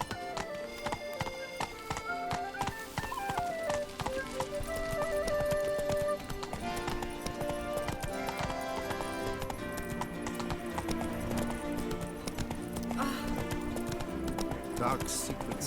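Hooves of the horse Roach clip-clop steadily in The Witcher 3: Blood and Wine, a continuous gallop rhythm under an orchestral score with a brief whinny and occasional voices.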